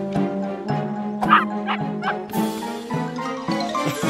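A cartoon dog in a children's animated show barks in a string of short yappy woofs and yips over sustained tonal backing, loud and up front.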